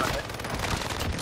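Rapid gunfire from a gas gun in a shooter game, a dense burst of repeated shots filling the whole moment, with a voice faintly underneath.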